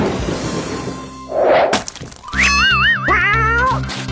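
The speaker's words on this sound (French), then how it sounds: "Le chaton s'est enfui pour se mettre à l'abri." A cartoonish cat meows several times in rising, wavering cries in the children's video game Monde de Léo, mixed with a springy boing and a sharp thwack, loud and close.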